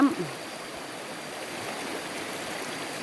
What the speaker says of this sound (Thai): น้ำก็ไหลตกสวยงามมากนะคะ